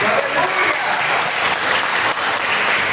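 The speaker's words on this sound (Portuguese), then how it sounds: "Agora eu te convido a dar a mais forte salva de palmas ao Senhor Jesus." A church congregation breaks into loud, dense applause during a worship service, a thick wall of clapping that stays full and continuous throughout, close and enveloping.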